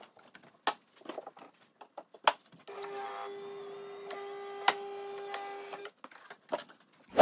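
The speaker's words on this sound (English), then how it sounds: "I'm literally in the office, I'm gonna print it out." An office printer runs through a photo print, giving a steady mechanical whir for about three seconds with clicks and clunks before and after. It sounds close and fairly quiet, with no talk.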